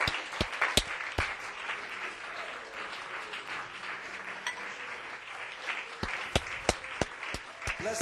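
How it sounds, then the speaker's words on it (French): A church congregation in Roubaix applauds in acclamation, a continuous wash of clapping marked by sharp, distinct individual claps near the start and again toward the end. "Pouvons-nous donner à Dieu une acclamation pour ces témoignages"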